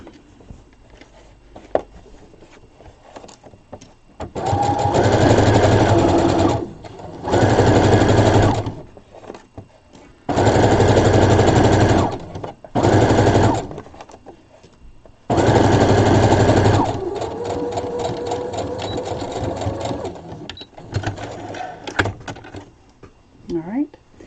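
A sewing machine stitches a doll's peasant top or dress for an 18-inch doll, running in several loud bursts of steady whirring, some several seconds long, with short pauses between.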